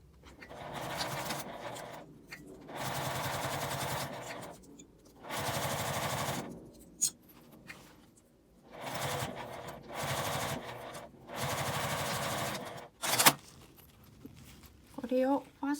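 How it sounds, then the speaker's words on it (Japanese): A sewing machine edge-stitches along the zipper side of a key case with a clear vinyl window, running in several loud bursts of rapid stitching separated by pauses, with a few sharp clicks and handling noises near the end. "これをファスナー側から端ミシンをかけていきます"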